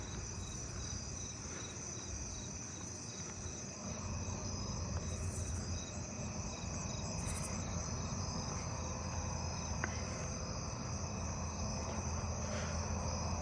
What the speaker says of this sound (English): Fall field cricket.